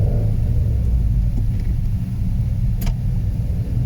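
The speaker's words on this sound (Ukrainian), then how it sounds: "Додаємо газ, розганяємо першу передачу і вмикаємо другу." A car engine in a driving-school lesson on a city route, a loud, close low rumble as it accelerates in first gear, briefly dipping as it shifts into second.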